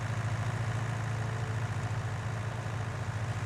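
A 280 horsepower tractor in Farming Simulator 19 pulls a heavy cultivator, its engine giving a steady, low, throbbing drone at moderate loudness with no talk.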